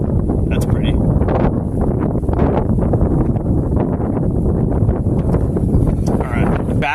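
Strong wind buffets the microphone outdoors during live storm chasing, a loud continuous roaring rush with gusty surges throughout and faint sounds of movement nearby.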